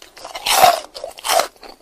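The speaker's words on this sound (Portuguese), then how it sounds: "Bem crocante, ele é com aquela farinha pão, né?" Two loud, close crunches as a crunchy panko-breaded bar snack is bitten, followed by softer chewing.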